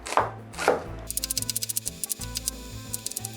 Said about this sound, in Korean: 이렇게 반을 잘라주고 얇게 채를 썰어주면 됩니다